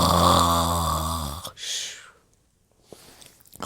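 A wolf's snore in a fairy-tale narration, a drawn-out nasal voiced snore followed by a breathy exhale and quiet pause, then a faint start of another breath, performed by a voice imitating snoring.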